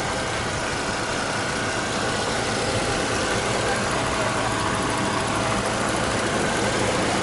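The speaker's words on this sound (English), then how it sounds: "It is a smooth running engine, quiet." Mercedes car engine idling with the hood open, a steady, smooth and quiet running hum with a faint tonal whine, continuous and unchanging throughout.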